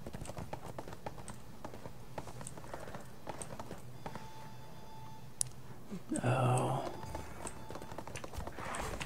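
Hooves of a skeletal horse clip-clop in the online game ArcheAge, a brisk repeating clatter of hoofbeats under game ambience, briefly joined by a louder whooshing effect partway through.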